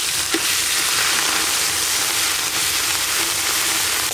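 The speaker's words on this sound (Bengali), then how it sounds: "বাঁধাকপি রান্নার জন্য 5 ফোড়ন আর তেজপাতা ফোড়নে দেব।" Bay leaves and Bengali five-spice sizzling in hot oil for a cabbage dish, a steady, dense frying hiss that holds close and loud throughout with no voices.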